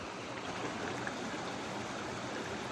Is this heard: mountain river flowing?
yes